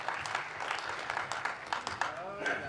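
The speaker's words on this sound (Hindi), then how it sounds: "जोरदार तालियां गड़गड़ाहट के साथ कमल मनोहर जी" A poetry-recital audience breaks into applause, a quiet, dense patter of many hands clapping for a couple of seconds with a voice faintly over it.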